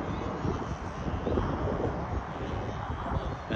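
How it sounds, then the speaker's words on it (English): A control-line model plane engine runs steadily at a constant drone, loud and close with broadband wind-like roar throughout and no clear pauses. "Engine RC plane, well, it's not really RC, is it? You're on a string control line"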